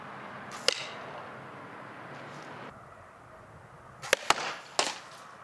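A spear fishing slingshot is fired at a bottle, giving a sharp snap, then later a quick cluster of cracks and impacts against a quiet outdoor background.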